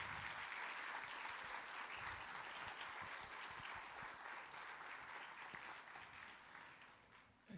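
Church congregation applauds continuously, a dense patter of many hands clapping at moderate distance, steady and fairly faint before trailing off at the end.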